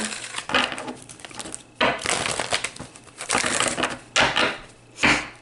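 Loud, close bursts of tarot cards being shuffled, riffling and crunching in several separate waves with short gaps between them.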